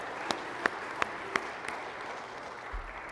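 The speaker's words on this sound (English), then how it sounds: "which I'm going to clap for" Sparse applause at a Baptist church gathering, heard as a handful of sharp, isolated hand claps spaced about a third of a second apart over a faint background hush.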